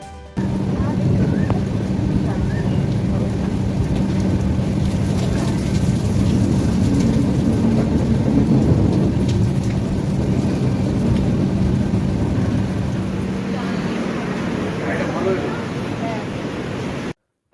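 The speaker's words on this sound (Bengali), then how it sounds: "বৃষ্টি আরও একটু জাঁকিয়ে বসেছে, তবে বৃষ্টির জন্য ট্রেন ঢুকতে একটুও লেট করেনি।" Heavy rain falls at New Bongaigaon railway junction, a dense, constant roar of rainfall with a low rumble beneath, loud and unbroken for the whole stretch while a voice talks over it.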